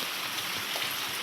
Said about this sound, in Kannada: ಮಳೆ ಬರ್ತಾ ಉಂಟು